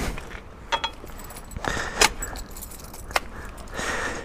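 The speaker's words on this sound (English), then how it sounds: "And then I stick this lock on the front wheel." Keys jangle in short metallic bursts as a lock is fitted onto a motorcycle's front wheel, with clinks and a few sharper knocks spread across a few seconds, close and fairly clear with no talk.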